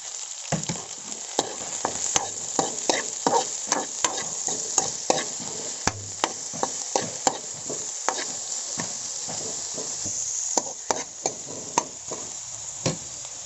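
Chili and onion fry in a pan for a clam thoran, a continuous close sizzle broken by frequent scraping stirs and clinks of a spoon against the pan, with no talking.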